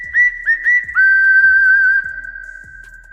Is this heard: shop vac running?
no